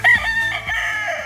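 A Philippine rooster crowing at a farm in Kintamani, Bali: a single loud, close crow with a sharp opening and a drawn-out, wavering call.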